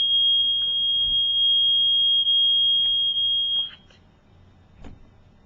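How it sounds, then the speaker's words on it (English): A fire alarm sounds a loud, continuous high-pitched electronic tone indoors for several seconds, then cuts off, leaving faint room noise and a couple of soft knocks. "The fire alarm was going off for like 5 minutes."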